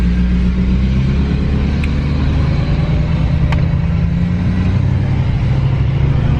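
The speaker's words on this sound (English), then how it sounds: "I have that on tow mode, and I have the engine brake going. Like, this is the only time you ever can hear a turbo in this truck." A truck in tow mode with its engine brake engaged and a turbo whistling gives a loud, steady, close rumbling drone, with two brief sharp clicks partway through.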